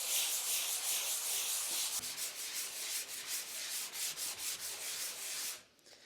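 Sanding in a basement bathroom with a dust-reducing setup, a steady raspy rubbing that is close and fairly loud, taking on a pulsing back-and-forth rhythm midway before stopping abruptly near the end.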